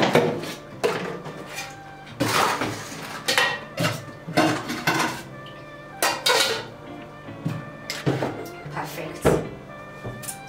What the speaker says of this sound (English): I like organizing my dirty dishes